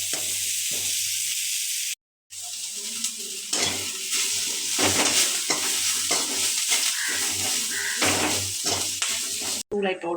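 Jaggery and fennel seeds are added to a pan and fried in a curry, giving steady sizzling and hissing with stirring scrapes and a few brief breaks.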